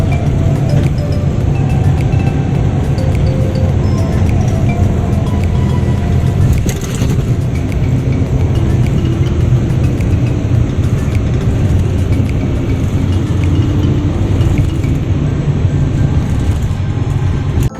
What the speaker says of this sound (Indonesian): gue masuk ke dalam bus dan bus pun berangkat